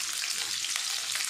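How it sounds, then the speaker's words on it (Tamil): Small onions and green chillies sauté in hot oil for a brinjal fish kuzhambu, giving a steady, close, even sizzle with no voices. "சின்ன வெங்காயமும் பச்சை மிளகாயும் நல்லா வதங்கட்டும்"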